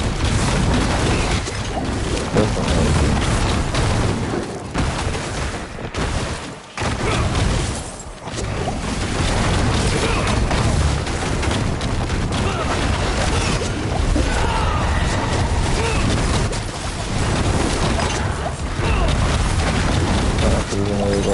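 Dense, continuous rumbling booms and crashes of explosions on the ground in Spiritborn endgame gameplay, loud and sustained throughout with brief dips, a voice faintly under the din.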